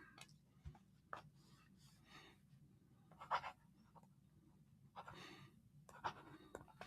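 Quiet scratching of a pen moving across paper in short strokes as a bill is signed at a ceremony, with soft ticks and rustles in a hushed room.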